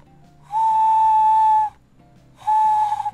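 A voice imitating a bird call as an animated character in a Sesame Street Elmo game, two clear, steady whistle-like tones with a short gap between them.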